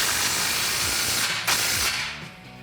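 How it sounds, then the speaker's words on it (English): A 13mm socket ratchet tightens a ball flare exhaust clamp on a 2019-2022 Silverado 1500 5.3L, giving fast close-up clicking strokes with a short pause midway. "I'm going to start here up at the front at the ball flare clamp with my 13mm socket and tighten this up"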